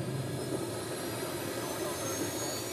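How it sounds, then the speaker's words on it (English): The four small turbine jet engines of a jetpack idle aboard an aircraft at altitude, a steady high whine over a constant broad roar with no change in pitch, talk faintly mixed underneath. "The 4-turbine jet engines are fired up and left to idle."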